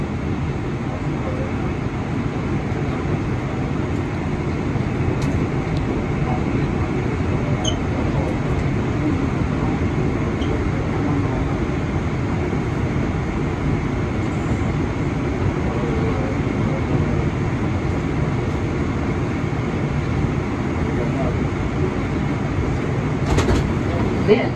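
An R142 New York subway 4 train running between stations, a steady low rumble and hum of the moving car with faint rattles and brief squeals, continuous and enveloping from on board.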